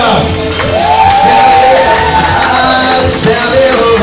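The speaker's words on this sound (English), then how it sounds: "And a round of applause for the bass player." A live concert crowd cheers, shouts and whoops loudly for the bass player, a dense sustained roar of voices with whistles rising over it.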